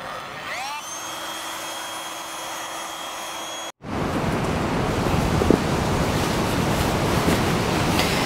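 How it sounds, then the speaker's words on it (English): An electric air pump inflates a full-size air mattress at a campsite, switching on abruptly into a loud, steady roaring whoosh that continues without a break. "let's pump up the airbed"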